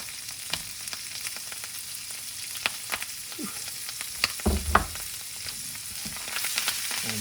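Onions and mushrooms sautéing in a pan for venison stroganoff with hen of the woods mushrooms, a steady soft sizzle and frying crackle with a few sharper pops and stirring clatters, close and moderately loud.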